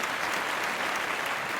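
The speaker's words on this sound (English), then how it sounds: "So little clap of celebration for me" A short burst of steady hand clapping in celebration, dense and continuous, close and fairly loud with no voices over it.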